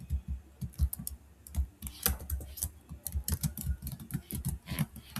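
Quick, irregular clicks of a computer keyboard come in short bursts as text is typed into an Excel attendance sheet, close and fairly quiet, with no voice over them.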